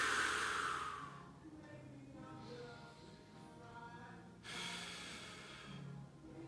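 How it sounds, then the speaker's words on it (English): A person breathing during a side-lying heel-elevated exercise, drawing air in through the nose and releasing slow, long exhales, soft and close, with faint breathy rushes repeating over a few seconds. "you're gonna breathe in this position, in through the nose, nice long exhale"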